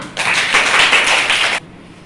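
A classroom of children applauding: a short, loud burst of dense clapping that starts abruptly, holds steady for over a second, then stops sharply, leaving quiet room tone.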